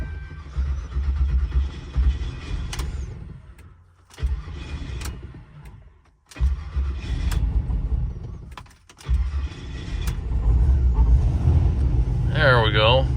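Cold turbo LS V8 in a Ford Crown Victoria cranking and catching, a rough engine rumble rising and dipping through repeated start attempts, with someone talking over it.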